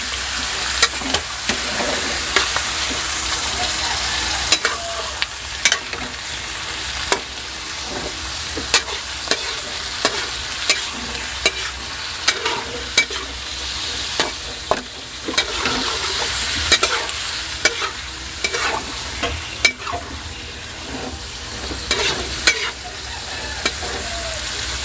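Chicken liver fries in a pan with a steady sizzle, while a utensil stirs and scrapes against the metal in irregular clicks and taps throughout.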